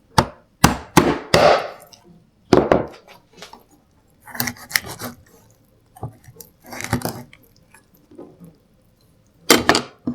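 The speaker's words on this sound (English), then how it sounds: "So here's where I like to use the hammer." A hammer cuts through salmon bones: sharp knocks and chopping thuds repeat irregularly, alternating with rough scraping rubs, close up with no talking.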